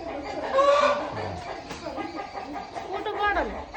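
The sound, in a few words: rooster crowing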